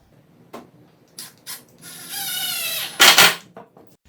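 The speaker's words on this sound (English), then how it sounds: "we're going to put a screw through the top into the leg" A power driver sends a screw down through a wooden desk top into a 2x4 leg. A couple of brief clicks come first, then a steady whirring drive of about a second, ending in a sharp final burst close by.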